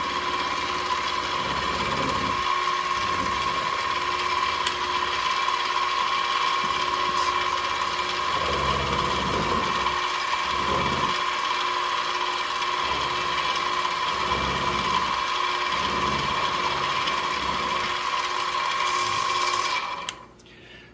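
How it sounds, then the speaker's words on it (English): A milling machine steadily cuts soft metal on an HO scale Atlas Dash 8-40B locomotive part, a loud continuous motor whine with a grinding cutting texture throughout that stops abruptly at the end. "since we got a milling machine, we might as well make use of it"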